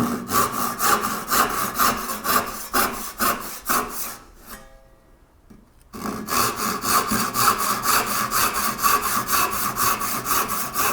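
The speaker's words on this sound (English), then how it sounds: "here's the crosscut saw, or the carcass saw, that has crosscut teeth on it" A crosscut carcass hand saw with crosscut teeth cutting through wood, giving loud, rhythmic back-and-forth rasping strokes up close, pausing briefly midway before the strokes resume at the same steady pace.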